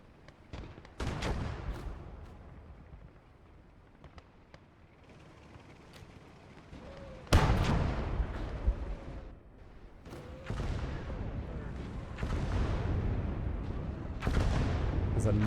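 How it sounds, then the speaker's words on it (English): Nebelwerfer rocket barrage in Gates of Hell: Ostfront, a series of heavy booming blasts arriving in separate waves, each a sharp loud onset trailing into a rumbling decay, with quieter gaps of distant battle noise between them. "A Nebel barrage goes off on the left"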